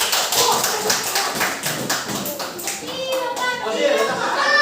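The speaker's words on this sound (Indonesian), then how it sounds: "Betul, tepuk tangan." Schoolchildren in a primary classroom clap their hands together in a brisk, rhythmic burst of many close, sharp claps. Faint young voices sit underneath.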